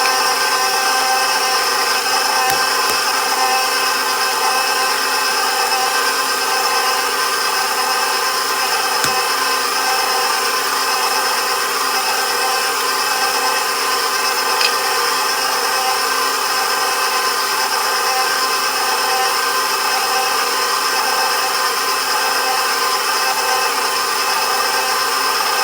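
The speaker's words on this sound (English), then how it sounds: "So I've transitioned my KitchenAid mixer to 2 settings" A KitchenAid stand mixer runs steadily on a low speed setting while mixing cake batter, a constant close mechanical whir and hum with a few faint clicks.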